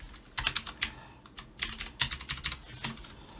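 Quick bursts of typing on a computer keyboard, clicking keys in short irregular runs with brief pauses between words, close and moderately loud with no speech.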